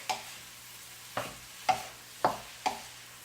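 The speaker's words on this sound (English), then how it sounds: "So I'm going to go ahead and throw in my rice." Rice tossed into a pan of melted butter and stirred, giving five separate scraping, sizzling strokes spaced about a second apart, close up and quiet, with no voices.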